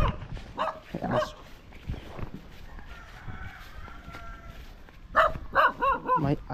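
A dog barks several times in quick succession near the end, outdoors in a Philippine village, after quieter stretches with scattered sounds and faint rustling.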